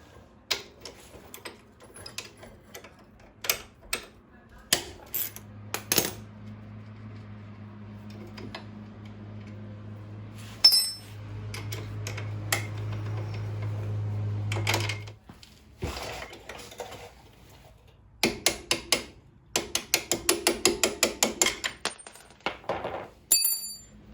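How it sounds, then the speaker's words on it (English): Ratchet clicks in short bursts while removing the bottom rear shock bolt on a Polaris Sportsman 450 ATV, with a steady whirring run mid-way, metallic clinks and taps, and a rapid clicking burst near the end. "Just gotta take off the bottom shock bolt,"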